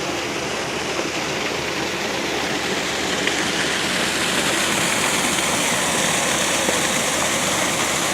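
Water pours steadily over a breached dam into the Sangville River, a constant loud broadband rush with no pauses, heard close and alone.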